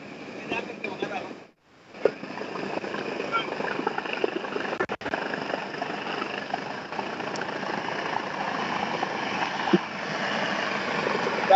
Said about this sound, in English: That is the presidential chopper.